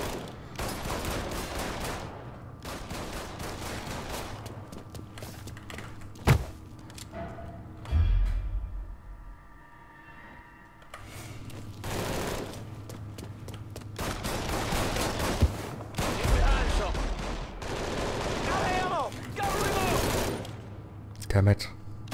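Shotgun gunfire in the Mafia 3 video game, heavy blasts and bursts of shots repeating across the span with brief lulls between, loud and near, with someone talking at times.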